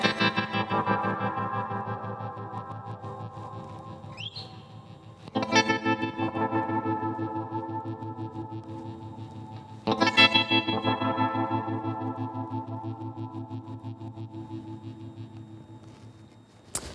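An electric guitar runs through the Hungry Robot Pedals The Wash effect pedal: three strummed chords swell into thick, shimmering, chorus-like sustain with a rippling echo tail that slowly fades, loud and close.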